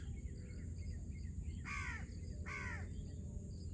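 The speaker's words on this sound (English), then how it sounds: "and the voice of birds." Crows cawing in a rural village with fields and guava trees, two clear harsh caws about a second apart over a constant low background hum of countryside ambience.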